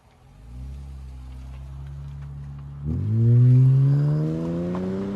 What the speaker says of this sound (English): Acura RL muffler delete.